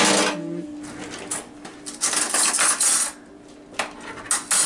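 A metal spoon scraping and clinking inside a jar while scooping out jelly, a run of close, rapid rattles and taps with brief pauses between bursts, no talking.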